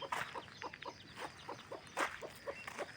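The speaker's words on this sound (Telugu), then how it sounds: "మా కోళ్ళు కూడా లేచినాయి." Farmyard chickens clucking in the morning, a series of short, repeated clucks spaced through the stretch at moderate distance, with no talk over them.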